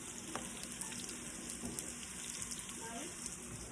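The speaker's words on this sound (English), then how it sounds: "You can hear that sizzle." Stock concentrate and a tablespoon of butter sizzle in a pan, a steady, close crackling fry with small pops throughout.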